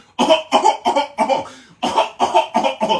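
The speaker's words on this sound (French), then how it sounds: "Je suis en train de tousser même" A person coughs repeatedly in quick, harsh bursts, close up, with a short pause midway before another run of coughs.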